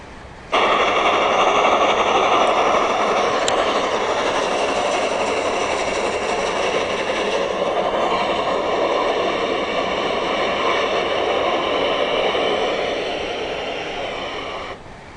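An express train pulls away from a railway platform with a loud, sustained rumble of wheels and carriages. The sound starts abruptly and holds steady before slowly easing, with faint clanks and squeals mixed in.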